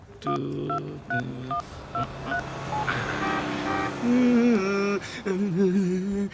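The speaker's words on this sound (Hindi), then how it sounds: "अभी फोन लगाता हूँ उसको, देख।" Telephone keypad DTMF tones as a number is dialed, a quick series of distinct beeps in short rhythmic bursts, followed by steadier tonal sounds and music-like tones near and clear.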